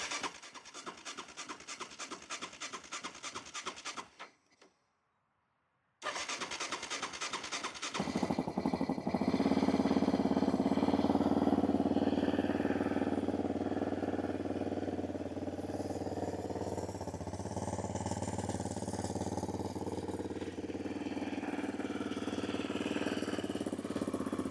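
A clapped-out Yamaha Raptor 700R ATV engine cranks over in a rapid starter rhythm, pauses, cranks again, then catches and settles into a loud, steady, slightly rough idle that runs on close by.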